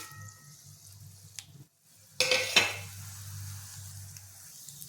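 Dried red chillies, coriander seeds, cinnamon, cardamom, cloves, black pepper, cumin and fennel frying in a pan for a Tamil egg gravy masala, a steady low sizzle with a brief gap and then a louder burst as more spices hit the oil.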